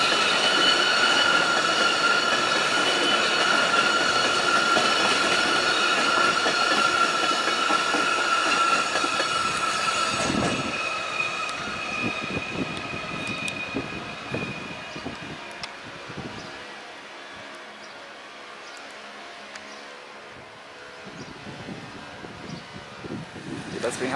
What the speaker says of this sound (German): Deswegen hat sie auch die Rangierlok bereit gemacht. Sie fährt jetzt hin, um auch diesen rauszurangieren.